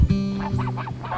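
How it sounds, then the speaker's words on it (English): Geese wandering near a homestead garden at dusk give a quick run of nasal honks, about four or five close, loud calls in an uneven burst with no talk over them. "Hey geese, what are you doing over here?"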